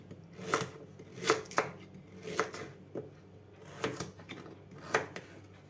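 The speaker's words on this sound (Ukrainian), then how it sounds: "Овочі нарізаємо довільними шматочками" Vegetables for pumpkin purée soup are cut into rough chunks on a board, sharp knife chops in irregular pairs and singles, about a dozen crisp close strikes.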